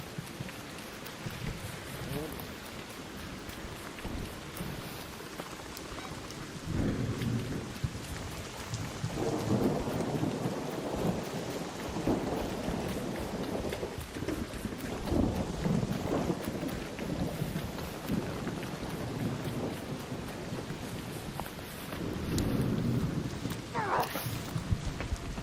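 A thunderstorm with steady, heavy rain and rolling rumbles of thunder that swell and fade throughout, fairly constant and moderately loud, with faint talking mixed in at times.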